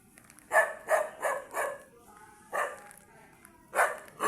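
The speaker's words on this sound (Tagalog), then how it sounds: "Nagagalit yung aso." A dog barks angrily on a village footpath in Cavite City, a few sharp barks in a quick row, a pause, then another couple, moderately close over quiet background.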